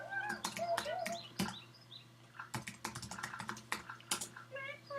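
Keys on a computer keyboard are pressed, including the tab key, with a scattered run of crisp clicks in irregular bursts, some close together and some spread out, plus faint chirpy tones in the background.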